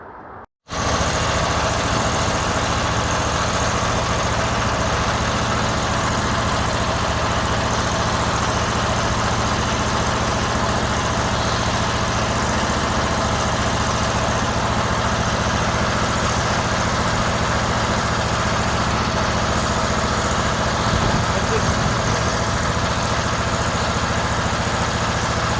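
A Porsche engine runs steadily at idle after a new distributor cap, rotor and points, a dense continuous drone filling the whole stretch without pause, close and loud.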